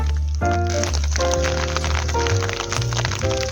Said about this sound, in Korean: 비가 와가지고 제법 많이 옵니다.